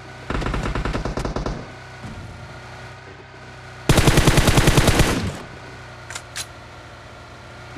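Gunfire in the PUBG Mobile video game: two loud bursts of rapid automatic fire, each lasting just over a second and separated by a pause, with a few faint clicks afterward.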